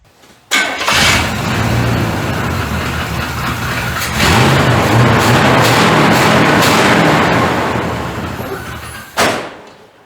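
A 1985 Chevrolet C30 truck, converted from diesel to a gas engine with a junk carburetor, cranks and catches at close range, then runs loud and rough. The running engine surges partway through and cuts off near the end.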